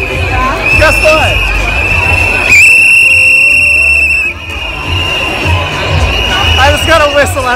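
A steady, piercing whistle blast sounds for about two seconds amid a noisy crowd murmur at World Pride in New York City, with chatter and shorter whistle chirps around it.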